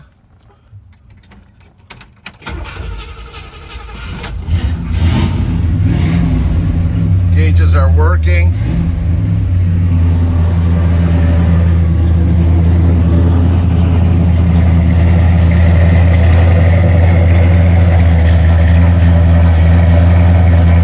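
A 1966 Chevrolet Impala with its hood open: keys jingle, the starter cranks, then the V8 catches and settles into a loud, steady idle with a deep rumble, as a voice briefly talks over it.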